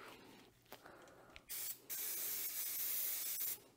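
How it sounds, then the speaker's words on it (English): Brake cleaner sprayed from an aerosol can onto luxury vinyl plank flooring: a short burst of loud, close hiss, then a longer steady spray lasting about two seconds before cutting off. "So first things first, a bit of brake clean here."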